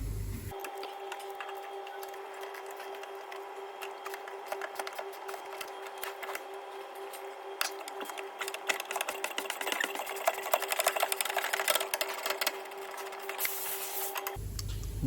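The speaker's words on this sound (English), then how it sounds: "We've got a decent 15mm ratchet spanner to get them off." A 15mm ratchet spanner undoing the anti-roll bar link nut on a Ford Mondeo gives a rapid, steady clicking that continues throughout, close and fairly loud over a constant mechanical hum.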